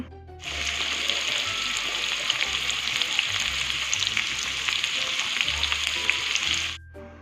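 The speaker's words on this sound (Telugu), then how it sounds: "పొటాటో ముక్కలు అయితే మంచిగా ఆయిల్లో ఫ్రై చేసుకోవాలండి" Potato pieces frying in hot oil give a loud, continuous sizzling crackle that starts abruptly and stops near the end, with no talking.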